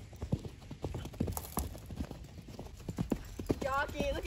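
Hooves of a horse being ridden clip-clop in a steady, close rhythm, with a brief whinny near the end, while a voice talks over the steps.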